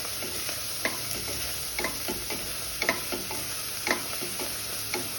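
Onion and curry leaves fry in a pan with no oil, a steady close hiss broken by regular scraping taps of a spoon stirring them, no voices.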